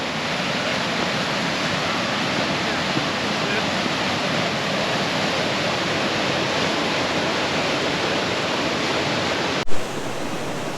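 Steady broadband roar of Adrenaline Falls, a waterfall in southwestern Colorado, heard close and loud throughout during an afternoon rain shower, with a brief bump near the end.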